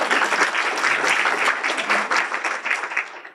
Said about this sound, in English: The food report, please applaud.